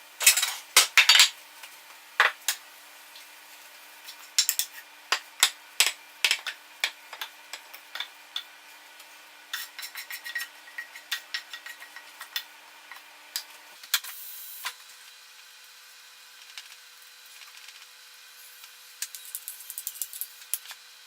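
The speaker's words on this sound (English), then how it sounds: "I put it on a plate and spread it out all over the plate" A spoon or utensil scrapes and taps against a plate while spinach pie filling is spread across it, giving a string of light clinks and scrapes at an irregular pace, close and fairly quiet, with no talking.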